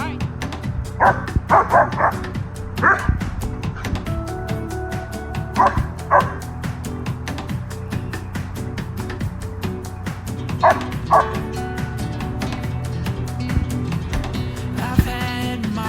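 An under-socialized German Shepherd barks, yips and whimpers in repeated short bursts, loud and close, with brief pauses between the outbursts across the whole stretch.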